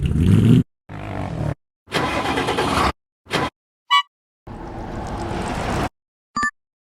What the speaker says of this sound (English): Sound is truck passing by.